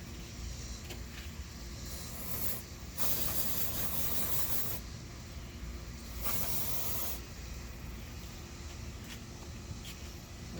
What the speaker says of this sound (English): I'm gonna use a mass airflow sensor cleaner since everything is disconnected.